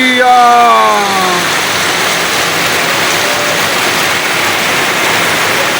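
Heavy rain pours in a steady loud roar on a rural kitchen roof, with a brief rising tonal sound at the start before the downpour continues alone.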